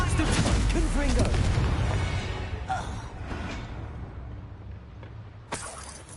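Confringo explosive spells cast in Hogwarts Legacy, a heavy booming blast with shattering debris that decays into a low rumble, with voices over the opening.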